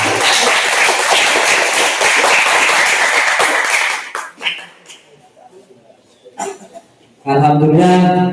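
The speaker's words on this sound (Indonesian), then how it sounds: "Tepuk tangan untuk kelompok 3." A few seconds of scattered clapping from a group dies away, leaving quiet taps before a voice begins speaking.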